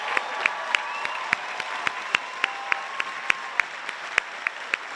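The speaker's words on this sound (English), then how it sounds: "Please give us a round of applause." Scattered applause from a crowd at a UC Santa Cruz college commencement ceremony, individual claps standing out in an uneven rhythm, moderately loud and continuous.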